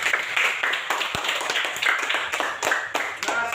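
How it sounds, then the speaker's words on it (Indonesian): Classroom students clap together after group work in a school lesson, a brief, busy burst of many hands at close range with some overlapping chatter. "Mari sekali lagi beri tepuk tangan buat kita semua."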